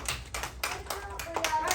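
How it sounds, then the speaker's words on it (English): A small classroom group gives volunteers a brief round of applause, a handful of close, uneven hand claps over about two seconds, with children's voices faintly mixed in. "Let's give our volunteers a round of applause."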